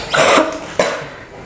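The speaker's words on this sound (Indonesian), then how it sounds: "Batuk." Two loud, close coughs in quick succession, harsh and throaty, with no speech.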